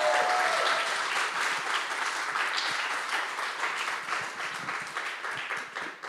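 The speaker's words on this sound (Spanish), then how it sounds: "Un fuerte aplauso para Rafa" An audience at a keynote event gives a sustained round of applause for the speaker Rafa: dense, steady clapping from many hands filling the room, loud at first and easing slightly toward the end, with no talk over it.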